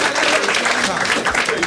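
Brief burst of audience applause at a stand-up comedy show, a dense wash of clapping with a voice speaking over it.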